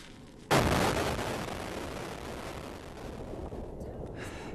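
A single heavy black powder blast booms out during bridge construction, a sudden loud burst followed by a long broad rumbling roar that slowly fades without dying away.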